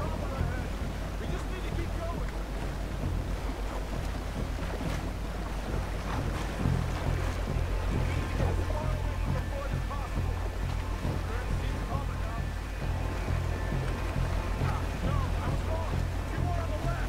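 A boat moving across open water in Red Dead Redemption 2, a steady rushing wash of waves and wind that continues throughout under spoken commentary and game sounds.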